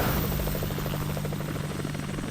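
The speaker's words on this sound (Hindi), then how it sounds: "ये तो मेरा हेलीकॉप्टर है" An animated cartoon helicopter flies past with a steady, rapid rotor chop that runs continuously and loudly, with no voices.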